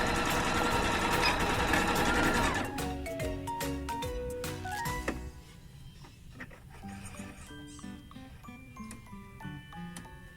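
Singer Confidence 7640 portable sewing machine stitching at its lowest speed, a dense rapid mechanical ticking and whirring close by that grows quieter partway through, leaving lighter intermittent clicks.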